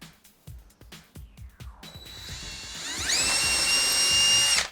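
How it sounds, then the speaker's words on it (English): Power drill boring a hole through plywood on a model railroad layout, next to the track ties; a few knocks come first, then the motor winds up into a loud, steady whine that holds to the end. "I'm going to drill a hole right next to these ties."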